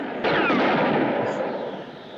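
A single sharp gunshot cracks out and strikes a rock, followed by a long, loud rumbling echo that slowly fades over a couple of seconds.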